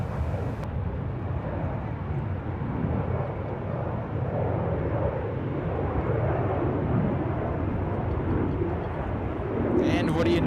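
An aircraft performs a go-around at San Francisco International Airport, its engine making a broad continuous roar that holds steady at moderate distance, with radio chatter faintly over it.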